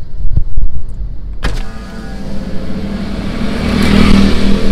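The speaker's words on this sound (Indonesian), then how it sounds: "Udah bisa nih kacanya." A car's power window, newly replaced on a Gocar/Grab ride-hailing car, whirs steadily as the glass lowers, a sustained motor hum close by that grows slightly louder toward the end, no talking over it.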